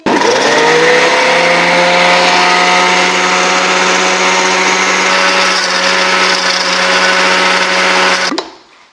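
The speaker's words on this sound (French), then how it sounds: "vous allez venir choisir la fonction Blend encore une fois sur faible vitesse. Donc là le programme va tourner pendant 1 minute" A blender on its low speed setting whipping mayonnaise while sunflower oil is poured in, a loud steady whirring hum that holds for about eight seconds, then cuts off abruptly.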